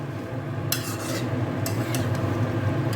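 Chilli chicken is stirred in a pan with a steady bright sizzle, and a few short scraping strokes of a utensil stand out against the frying, up close with no voices.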